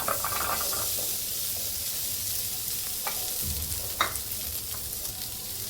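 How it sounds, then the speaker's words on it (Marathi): Onion roasting in a pan with a little oil for a curry gravy base: a soft, steady sizzle and hiss with a few brief scrapes of stirring, close and unaccompanied by talk. "कांदा भाजून घ्यायचा आहे आपल्याला।"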